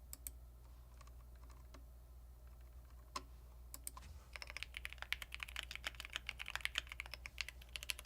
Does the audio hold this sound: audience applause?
no